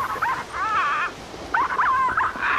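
A parrot's squawky, warbling voice in the video game The Cave imitates a dog's barks and whimpers in short bursts with brief pauses between them.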